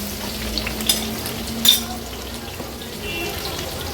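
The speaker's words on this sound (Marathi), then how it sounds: "फोडणीला त्या लसणाच्या पाकळ्या आणि हिरव्या मिरच्या घालूया।" Garlic cloves and green chillies fry in hot oil for an Agri-Koli style fish curry, giving a steady soft sizzle with a couple of brief clatters from stirring. There is no talk.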